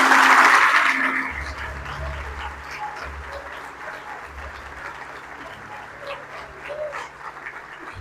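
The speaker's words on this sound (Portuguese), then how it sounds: "Vamos aplaudir o Senhor." Church congregation applauding, a strong opening burst of clapping that quickly fades into softer, thinner applause with murmuring voices and low music underneath.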